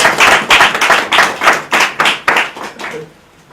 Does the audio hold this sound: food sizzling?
no